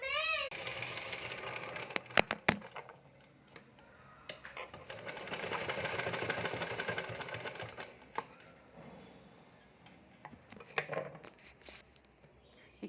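A sewing machine stitches a tassel for a blouse, its rapid mechanical chatter running in steady spells with brief pauses and clicks, close and clear, while someone speaks between runs.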